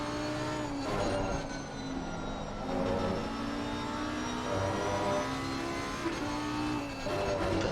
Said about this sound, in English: On the brakes, you can really hear the traction control from Keddy kicking in there.